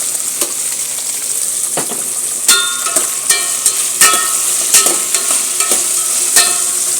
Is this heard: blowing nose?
no